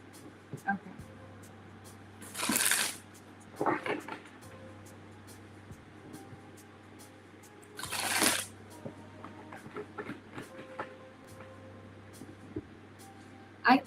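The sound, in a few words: shuffling tarot cards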